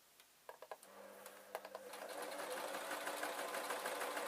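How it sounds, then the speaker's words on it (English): A sewing machine stitches fabric for Halloween ghost bunting, a few short clicks and bursts first, then steady continuous running that settles into a fast, even whir, close and fairly loud. "So I'm just sewing, I suppose, 4 inches"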